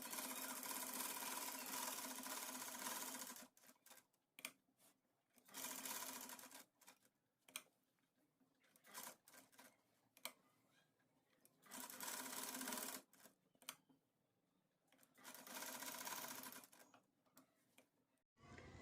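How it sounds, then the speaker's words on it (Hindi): Sewing machine stitching around the neckline of a suit: bursts of fast, whirring mechanical running alternate with short pauses and small clicks, close and fairly quiet, with no talk. "पूरे गले पे स्टिच करना है।"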